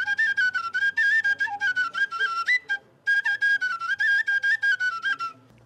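A Romanian folk whistle flute (fluier) played at an outdoor ethnic folk festival, bright piping notes in quick ornamented phrases, close and loud, with one short pause midway and no talk.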